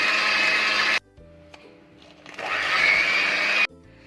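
An electric mixer beats eggs with sugar for an orange cake, whirring loud and close in two bursts. The motor stops briefly, then revs back up, with small clinks from the bowl in the pause.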